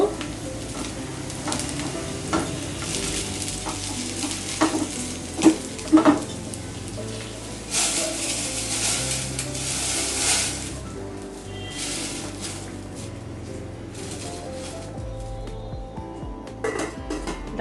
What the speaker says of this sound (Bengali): আমি ডালে ফোড়ন দিচ্ছি পেঁয়াজ কুচি রসুন কুচি আর তিনটি শুকনো মরিচ